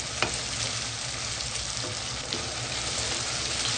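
Tomatoes sizzling and frying in a pan for Punjabi tinda curry, a continuous close crackle with a few soft stirring scrapes, no voices.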